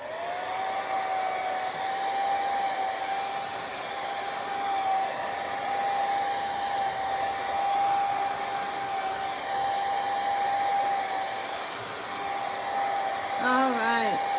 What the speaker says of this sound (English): I'm gonna give it one more shot with the dryer.